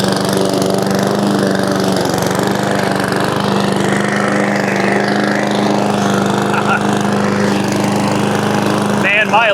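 An inexpensive Amazon Smartpower lawn mower drones loudly and steadily up close while cutting overgrown grass, its engine note holding even with slight bogging under load.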